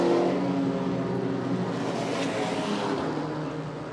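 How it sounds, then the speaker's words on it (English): Race cars on a circuit, a Renault Clio chased by a Subaru BRZ, roar past in a sustained engine drone that slowly fades as they pull away. "Levitt in the Clio being chased by Dowsett in the Subaru BRZ."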